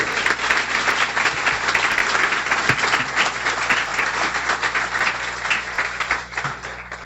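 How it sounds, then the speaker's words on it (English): Loud, sustained applause from an audience at a guide dog class graduation ceremony, a dense continuous clapping wash lasting the whole stretch without voices over it. "A warm round of applause for Judy Collard, please."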